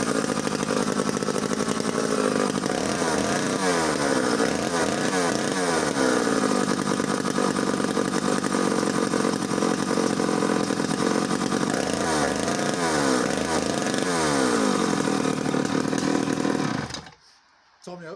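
A Danarm DDA110 long-handle British chainsaw with strong compression, its engine recently cleaned, runs loud and steady at close range for a long stretch, then cuts out abruptly near the end.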